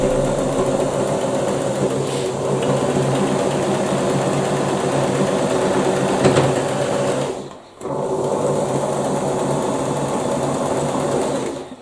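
A treadle sewing machine runs steadily while stitching a scullery curtain, giving a continuous whirring hum that drops out briefly near the end before picking back up. No one speaks.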